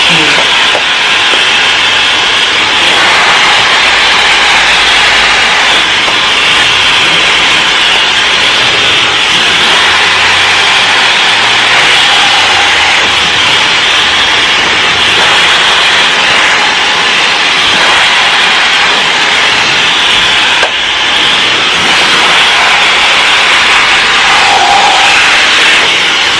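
A hair blow dryer runs continuously on medium fan and medium heat during a silk press, a loud, steady whooshing roar with no talking.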